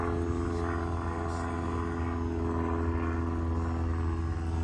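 A steady, droning engine hum with a strong low tone, continuous throughout, from a model T-33 jet flying at moderate distance.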